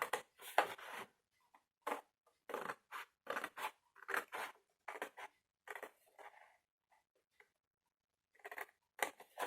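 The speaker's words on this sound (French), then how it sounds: "Des ciseaux. Je vais en découper un pour être sûr que je ne me sois pas trompée dans mes calculs." Scissors snipping out a paper piece, a long series of quick crisp cuts in irregular bursts with short pauses, close and clear with no talking.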